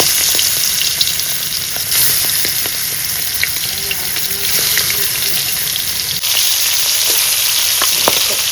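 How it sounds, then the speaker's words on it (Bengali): Pangas fish pieces fry in hot oil in a wok, a loud, dense, continuous sizzle with scattered crackles and pops, no voices. "তেল গরম হয়ে গেছে, আমি এবার মাছ ছেড়ে দেবো।"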